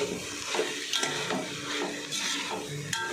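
Okra pieces cooking with chili powder in a pan are stirred with a spoon, producing repeated scraping strokes against the pan over a continuous sizzle, close and steady.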